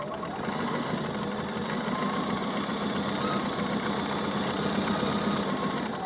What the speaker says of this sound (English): you can see it brings my presser foot down and I can start sewing. So here I go. I'm going to sew this piece.